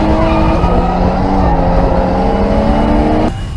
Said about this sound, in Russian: мы видим тот самый парный дрифт, который мы хотели увидеть целый день